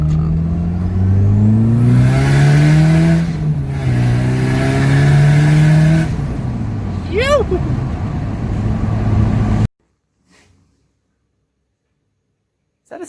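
Turbocharged Toyota 3RZ engine with a screamer pipe on a stock ECU at 7 psi, revved several times in rising and falling sweeps, loud and close, with a whistling flutter after one rev, then cutting to near silence.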